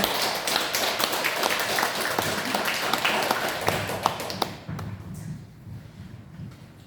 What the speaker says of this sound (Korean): 한 번 더 큰 박수 부탁드립니다.